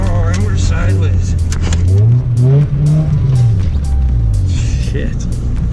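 An Acura Integra slides sideways in a drift, its engine revving up and down in loud rising and falling sweeps while tires squeal, close and continuous, with occasional voices mixed in.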